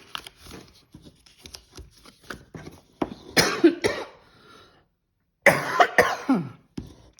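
A few close, harsh coughs break out between quieter paper rustling and handling noises while paper is folded with a bone folder, followed by a short silence and another coughing fit.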